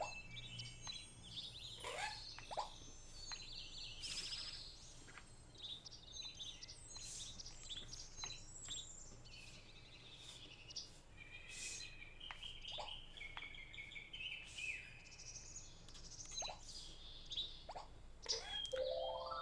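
Sparrowmint birds in the video game Viva Piñata give scattered chirps and tweets over a steady ambient game background, with repeated short calls spread throughout.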